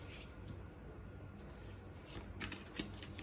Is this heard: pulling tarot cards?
yes